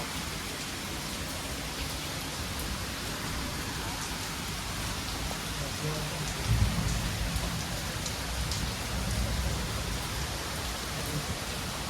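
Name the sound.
rain falling outside a riverside guest house balcony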